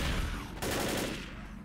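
Gunfire in Left 4 Dead crackles in a short burst, one sharp broadband shot standing out over a dense, noisy background.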